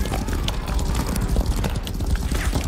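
Horse galloping across a battlefield in a Napoleonic Wars video game, with quick rhythmic hoofbeats over a constant din of battle noise, fairly close and continuous.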